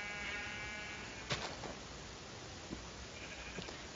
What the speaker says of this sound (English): Ooh, lots of black sheep.